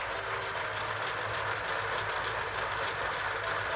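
Motorized engines of a Lego Titanic model, driven by a Power Pack, run with a steady low mechanical whir and faint rhythmic clatter, close and continuous with no talk.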